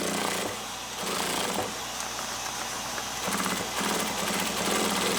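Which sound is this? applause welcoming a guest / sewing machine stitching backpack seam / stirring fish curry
sewing machine stitching backpack seam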